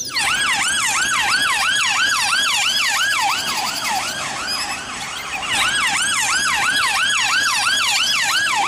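Toy police patrol car from a set of toy vehicles, sounding a loud, close electronic wailing siren with rapid repeating up-and-down sweeps, steady for the whole stretch with no voices over it.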